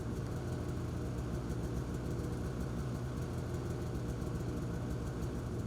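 A 2023 Polaris Patriot Boost Indy VR1 snowmobile engine idles steadily with a low, even rumble and constant vibration, heard alone without speech.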